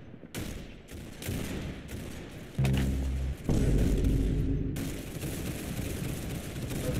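Rapid bursts of automatic gunfire and sharp shots from a Roblox Arsenal match, loud and dense, with a heavy thumping stretch in the middle and continuous firing throughout.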